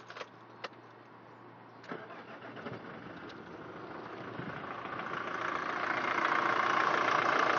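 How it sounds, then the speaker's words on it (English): A diesel car engine cranks and starts, then settles into a steady, slightly rough, shaky idle that grows louder and fuller toward the end. "now you can hear how the motor runs. It's a little bit shaky"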